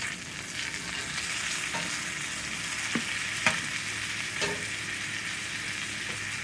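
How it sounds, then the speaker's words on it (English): Bacon-fat roux for Southern bacon gravy frying in a pan with a steady close sizzle, while a utensil scrapes and stirs through it at intervals. "let's get back to this roux over here, because that's really what you're making"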